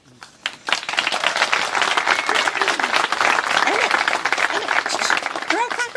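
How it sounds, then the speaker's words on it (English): An audience claps at a search dog team pairing ceremony, a dense, loud and steady round of applause that swells after a brief quiet start, with voices and vocal sounds rising above it. "They're all clapping for you"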